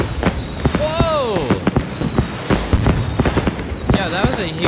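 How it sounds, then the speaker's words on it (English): Fireworks bursting in a video game: repeated sharp cracks and pops with rising whistles between them, loud and close, while a person talks over them. "that was a huge firework"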